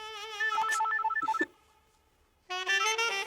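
A mobile phone rings with a bright electronic melody, playing a burst, falling silent for about a second, then starting again, close and clear.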